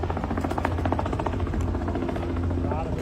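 A helicopter flies with steady thumping rotor blades and a droning engine, loud and continuous throughout, while a voice talks over it.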